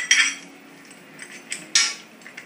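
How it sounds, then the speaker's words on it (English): A spoon clinks and scrapes against a pot as bacon is stirred back into a couscous dish, a few sharp metallic taps with softer scraping between, close and clear with no talk. "I'll stir back in the bacon"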